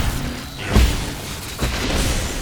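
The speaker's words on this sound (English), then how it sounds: "Oh my god, that actually hit me on the explosion." A deep, close boom from an explosion in the video game Nine Sols, followed by a second, softer thud a moment later over a low rumbling background.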